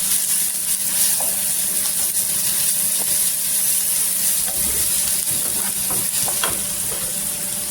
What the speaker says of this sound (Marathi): हिरवी मिरची आणि लसूण इथे तेलावर छान असं परतलेलं आहे पहा